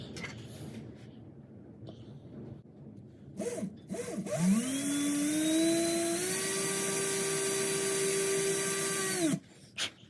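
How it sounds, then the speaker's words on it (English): A drill spins up after a few faint knocks, holding a steady whirring pitch for about five seconds before stopping abruptly while drilling holes in cedar for a fishing lure. "So let's drill these holes"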